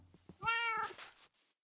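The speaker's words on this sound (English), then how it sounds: "The cats are in" A cat in the Minecraft video game meows once, a clear rising-and-falling game-sound meow, close and alone, with faint clicks before it.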